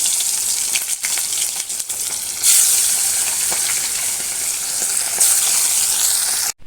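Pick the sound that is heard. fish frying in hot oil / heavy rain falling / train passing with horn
fish frying in hot oil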